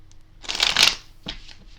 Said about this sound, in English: I've already shuffled my cards quite a bit